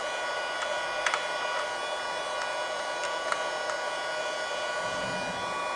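A portable mini USB vacuum cleaner runs steadily, a constant high-pitched whining hum with a few faint clicks and taps as it suctions loosened dirt from crevices, close and alone.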